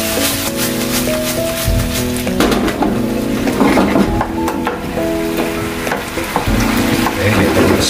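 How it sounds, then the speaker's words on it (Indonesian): Sliced mushrooms, about 15 grams, stirred in a hot pan for mie kocok, with steady sizzling frying and repeated scraping, clattering stir strokes close by. "Aduk rata."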